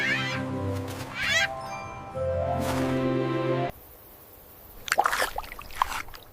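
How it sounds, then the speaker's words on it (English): An Adelie penguin lets out two drawn-out, nasal braying calls close by, then the scene shifts to softer splashing and scattered noises. "It's an Adelie penguin."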